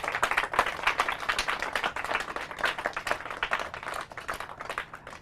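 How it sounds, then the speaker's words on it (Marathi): A live audience claps for the finalist teams at a competition, dense and fairly loud applause with individual hand claps audible, sustained throughout and tapering slightly toward the end. "ज्यांनी फायनलमध्ये प्रवेश केला त्यांच्यासाठी जोरदार टाळ्या."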